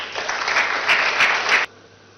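An audience at the opening of a cashew master training programme gives a short round of applause for a deputy superintendent of police, a dense burst of clapping that stops abruptly after about a second and a half.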